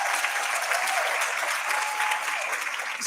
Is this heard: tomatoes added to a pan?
no